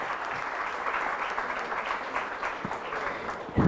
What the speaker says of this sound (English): Please give a big round of applause for our panelists.